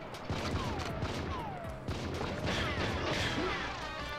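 Gunfire and impacts from GoldenEye 007 multiplayer on the Nintendo 64: a dense, steady run of repeated shots and crashing hits with a few whistling tones, loud and continuous throughout.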